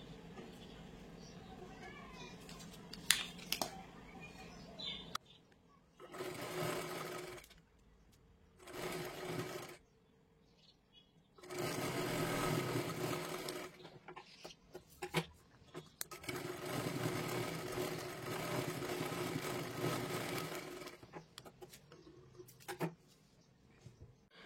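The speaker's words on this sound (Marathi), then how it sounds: "ह्याच्यावरती शिलाई करून घ्यायची आहे" A sewing machine stitches a sleeve design in several separate bursts of varying length, quiet and close, with a voice talking in between runs.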